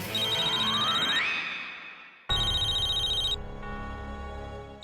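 A phone rings with a bright electronic melody of repeated tones, breaks off briefly partway, then starts again, heard clearly and near in a quiet indoor scene.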